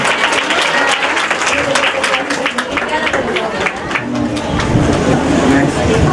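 A church congregation claps loudly and continuously at a Sunday meeting, a dense steady wash of applause with voices and crowd babble mixed in.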